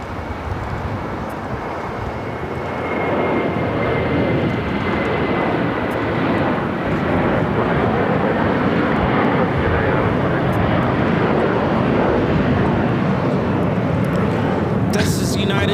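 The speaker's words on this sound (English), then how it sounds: "This is United Airlines 493 taking off to Denver, Colorado on a 757-300" A United Airlines Boeing 757-300 on flight 493 taking off from LAX for Denver, a loud sustained jet roar that builds and stays strong, with a thin engine whine early on and a voice talking over it.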